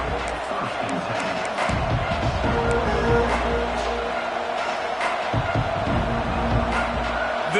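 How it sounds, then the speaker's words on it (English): A large stadium football crowd roars and cheers steadily throughout, with a commentator talking over the noise. "This crowd ready to make its presence known"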